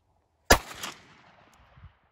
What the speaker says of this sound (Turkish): Atış var.